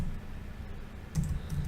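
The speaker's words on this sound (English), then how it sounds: "my typing's terrible" Computer keyboard typing during an on-page SEO session: soft, fast clicking keys under a steady low hum, quiet and close, with a brief louder burst of strokes near the end and no speech.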